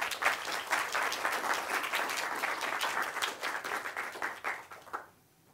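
Attendees at a Django Girls Colombia tech community event in Cartagena clap in a full, sustained round of applause that thins out and stops abruptly near the end, leaving quiet room tone.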